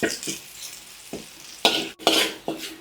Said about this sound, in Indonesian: Tambahkan sedikit minyak, bawang putih 4-5 siung ya